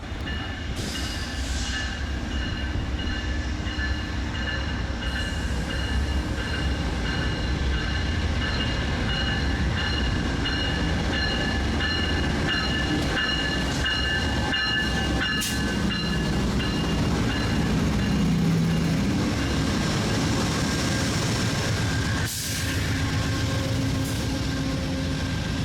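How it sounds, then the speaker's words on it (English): A Metro A Line light rail train bound for Long Beach rumbles along the tracks in Southern California, with a continuous loud drone, rhythmic wheel clatter and tonal motor whine, plus occasional squeals and clunks, and no talk. "This is a Metro A-Line train to Long Beach."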